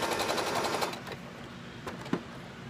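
Sewing machine running a short runoff stitch to hold a mask cord tab in place, a brief burst of fast mechanical stitching up close, fading to quieter handling noise with a small click near the end.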